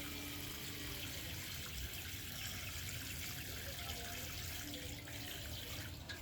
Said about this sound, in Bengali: এভাবে গাছটিতে একটু জল দিয়ে দেবো